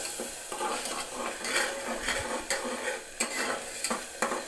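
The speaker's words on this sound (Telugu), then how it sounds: "ఇలా బాగా ఆయిల్ సపరేట్ అయ్యేదాకా ఉడికించుకోవాలి." Masala frying in oil for a mushroom curry, with steady sizzling and repeated stirring scrapes of a spoon against the pan, close and continuous throughout.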